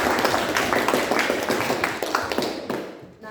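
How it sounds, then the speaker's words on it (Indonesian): A classroom of students claps together, a dense burst of quick, overlapping hand claps close by that holds steady and then tapers off toward the end. "Tepuk tangan dulu buat kita semua"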